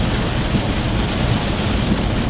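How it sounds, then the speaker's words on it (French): Rain falls steadily while a car is driven, a dense loud wash of noise with low road rumble and no talking. "c'est vraiment dû au fait qu'il pleut pas mal"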